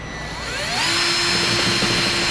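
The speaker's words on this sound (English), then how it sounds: "we'll center our hitch up as best as possible and drill a pilot hole" A power drill whirs steadily while drilling a pilot hole for a trailer hitch on a 2004 Acura TL, its pitch rising as it spins up and then holding a loud, sustained whine with no talking.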